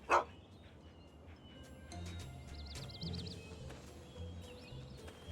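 A dog barks in the video game Fallout (Tale of Two Wastelands), one sharp close bark at the start followed by quieter game ambience with faint whines and electronic tones.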